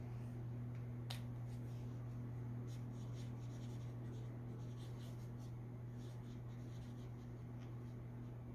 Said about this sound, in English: let me write down what this is